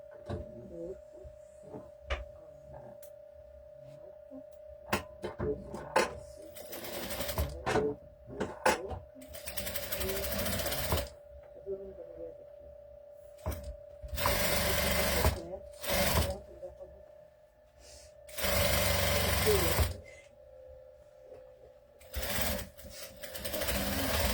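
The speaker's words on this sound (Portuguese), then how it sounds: "avesso com direito da pelúcia e vem costurando" A sewing machine stitches fabric to plush in repeated bursts of rapid whirring, stopping and restarting between quieter pauses filled with soft handling sounds, close and clear.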